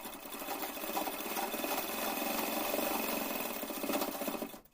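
A sewing machine stitches the corner of a blouse, its needle pounding in a fast, steady run for several seconds before stopping abruptly.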